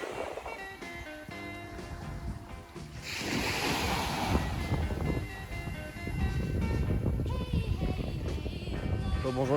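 Strong wind buffets the microphone with a loud, steady roar, mixed with surf rushing in and out on an Australian beach, no one speaking.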